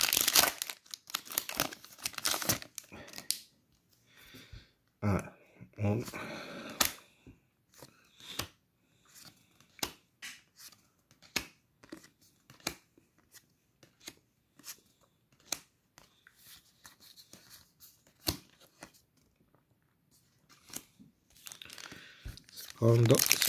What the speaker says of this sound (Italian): apriamo il pacchetto colpo visione